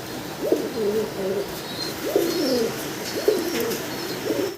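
Domestic pigeons, including a breeding pair sitting on eggs, coo in a steady repeating pattern of low throaty calls, three phrases close by over faint background noise.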